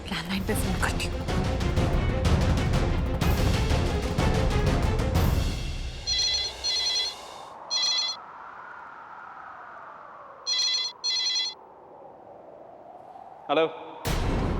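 Music fades out, then a landline phone rings in short repeated bursts, paired rings with pauses between them, over a quiet background.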